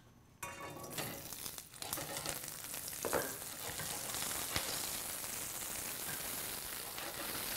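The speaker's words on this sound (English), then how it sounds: "we're going to let those saute till they're nice and golden brown" Onions hit hot oil in a pan and break into a bright, continuous sizzle that settles to a steady fry, with a spoon scraping a couple of times early on.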